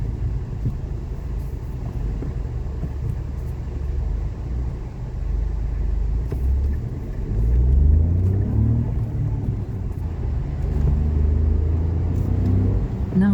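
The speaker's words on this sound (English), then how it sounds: "Certainly performs sprightly enough in the 1 litre with the turbo as the turbo starts boosting away." A Dacia Sandero Stepway with a 1-litre turbo petrol engine accelerates on the road, a steady low rumble of engine and road noise rising in pitch as it speeds up, heard from inside the car.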